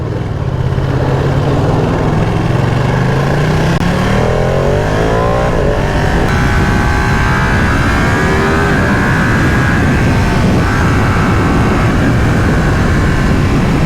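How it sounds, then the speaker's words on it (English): Ducati Panigale V2 motorcycle cruising at 60 mph in fourth gear, a loud, steady engine drone with heavy wind rush throughout and no talk. "Cruising along 60 miles an hour in 4th gear."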